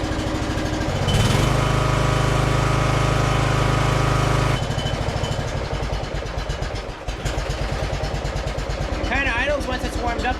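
A Toro 38-inch zero turn mower engine starts and runs after repairs in a garage, a loud close throbbing idle under voices talking throughout.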